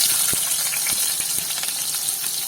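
Sliced onions sauté in hot oil with fennel seeds for a Kerala-style fish curry, giving a steady, close frying hiss broken by a few small clicks and pops, with no voices.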